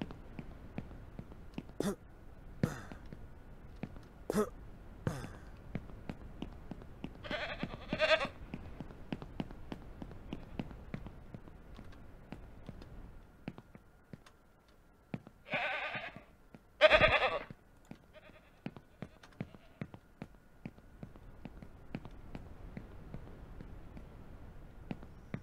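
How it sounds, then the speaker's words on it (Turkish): Goats bleating in the Ranch Simulator video game, several separate bleats spaced across the stretch, some paired, over a quiet background of faint ticking game sounds. "bak gördün mü keçiyi"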